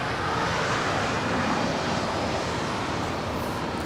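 A Korean Air Boeing 747 taxis at Los Angeles International Airport, a broad, distant jet rumble and hiss holding steady and fairly faint with no voices.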